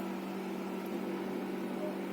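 An electric mixer grinds potato, green chilli and coriander into a paste, giving a steady, fairly loud whirring drone that holds evenly without pause.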